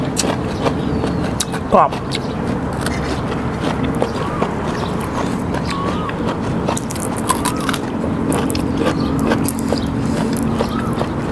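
Crunchy bites into fresh spicy shrimp and blue crab, close chewing and crackling under steady background noise and a nearby voice.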